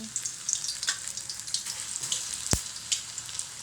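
Banana slices dropped into hot oil in a pan sizzle and crackle steadily, with a faint clink of a utensil partway through and no talking.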